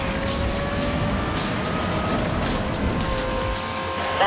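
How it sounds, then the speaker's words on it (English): Speeding cars roar past in a police pursuit in the video game Need For Speed: Most Wanted (2012), a steady engine drone with faint tire squeal throughout, loud and continuous. "Multiple speeding vehicles."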